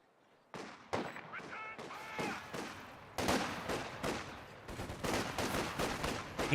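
Battle in Company of Heroes 2 with repeated gunshots and explosive bursts piling up over a few seconds, moderately loud and dense, with no speech over it.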